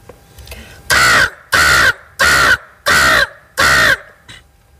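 A boy imitates a crow with his mouth, giving five loud, harsh caws in a steady, evenly spaced rhythm, close and clear against a quiet background.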